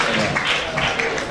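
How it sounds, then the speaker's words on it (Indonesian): Campus insurance seminar audience giving a short burst of applause, dense steady clapping from many hands in a hall, brief and fairly loud. "Boleh tepuk tangan dong"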